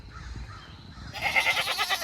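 Brown-eyed black and white horned goat buck bleating nearby, a wavering nasal call rising over faint low background rumble in the second half.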